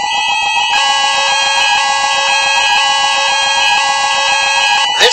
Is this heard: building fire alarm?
yes